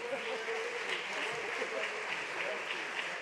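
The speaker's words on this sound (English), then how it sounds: "a round of applause for my incredible panelists" Audience applause for panelists at the AIF 2019 opening ceremony, a steady wash of clapping from a sizable crowd, moderately distant and fairly soft, with some voices mixed in.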